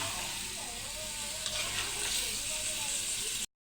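Pangas fish sautéing in a hot pan gives a steady, dense sizzle with brief stirring scrapes, close and continuous until it cuts off abruptly.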